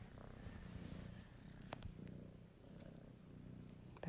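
A kitten lying in a lap purrs up close in a soft, steady, rumbling rhythm that continues unbroken throughout in a quiet room.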